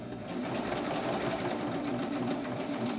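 A Baby Lock Ovation serger sews a seam with its cutting blade, giving a close, steady, continuous mechanical whir that runs unbroken the whole time.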